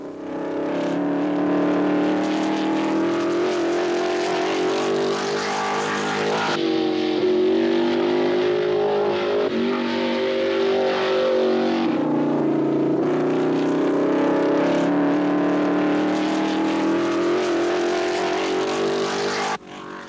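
1955 Formula 1 race cars corner at the British Grand Prix at Aintree, their engines roaring loud and close, pitch sweeping down and back up through gear changes and the corner, sustained throughout without commentary.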